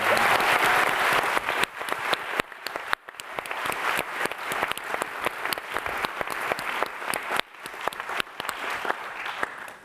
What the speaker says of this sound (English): Now we're going to clap.